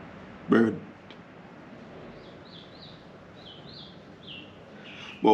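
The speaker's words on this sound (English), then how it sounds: "Bird." Small birds chirp faintly outdoors in Canada, a scattered series of short high calls in the distance, with brief loud bursts of a voice at the start and end.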